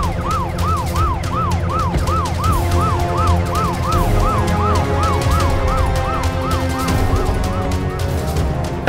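An ambulance siren wails with a fast, repeating rise-and-fall tone. It sounds loud and close over a dense background of crowd and street noise, and the siren fades a little toward the end.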